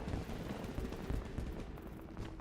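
Dense, continuous crackling bursts of fireworks going off outside near Blackbrush Station in a game world, a rapid unbroken barrage of pops and thumps with no talk.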